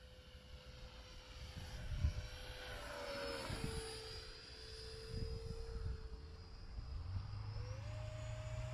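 An E-flite F-15 Eagle RC jet flies at a little over half throttle, a steady whining ducted-fan hiss with a sustained tone that bends in pitch as it passes, with continuous outdoor wind rumble underneath.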